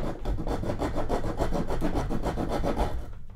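The saw of a pliers-style pocket multitool cuts through steel rebar with steady, rapid back-and-forth rasping strokes, close and loud, continuing without talk for about three seconds before stopping.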